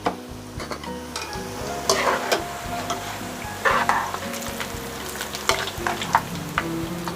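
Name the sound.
frying whole garlic in hot oil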